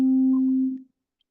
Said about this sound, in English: just adding harmonics at random and making a really weird dissonant chord